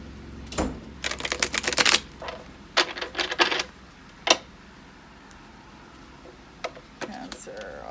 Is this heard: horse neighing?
no